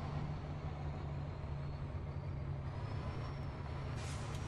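A big Kenworth truck in Farming Simulator 15 idles with a steady, loud engine drone, and a short burst of air-brake hiss comes near the end.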